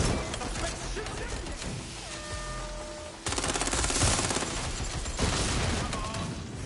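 Gunfire from a suspect in Watch Dogs Legion, dense bursts of shots crackling over a busy game soundscape, loud and close, with a louder stretch of rapid fire midway.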